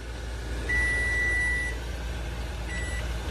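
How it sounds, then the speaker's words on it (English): A Cabela's food dehydrator buzzer sounds a steady high beep for about a second, then a shorter second beep, over a loud, constant fan hum. "Here goes the buzzer."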